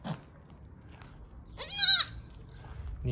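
A goat tethered near its kids gives a single loud, nasal bleat partway through, set against a quiet farmyard background of low rustling.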